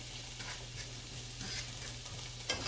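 Vegetables sizzling softly in a pan with a low steady fry, a few light stirring scrapes and a brief clink near the end, faint, with a low hum underneath.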